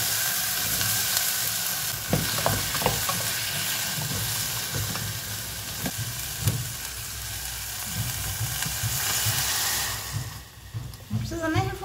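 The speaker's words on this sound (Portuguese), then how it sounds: "Vou refogar esse quiabo, dar uma cozinhadinha assim, bem pouquinho" Okra sautéing briefly in a pan, a steady close sizzle with occasional spatula scrapes and clinks; a voice talks intermittently over the frying, and the hiss eases toward the end.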